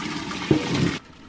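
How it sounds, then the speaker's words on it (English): Hot water poured off a pot of boiled potatoes into a strainer, a brief gushing splash lasting under a second before it cuts off. "Be careful when dumping hot water like this"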